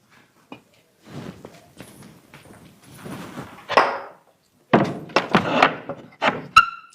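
A kitchen door being shut in a home, heard as scattered thumps and handling knocks that end in a sharp, close closing thud.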